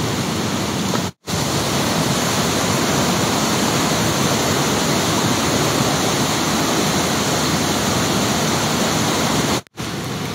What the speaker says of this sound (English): There's a huge excess of water running off into the weir opposite the landing stage